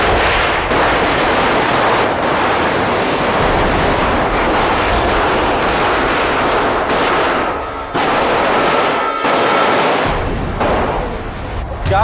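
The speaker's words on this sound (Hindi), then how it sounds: "अरे इतनी रात को ये पटाखों की आवाज" Firecrackers burst at night in a farming village: a dense, loud, continuous crackle and roar of overlapping pops that barely lets up, with a brief dip near the end.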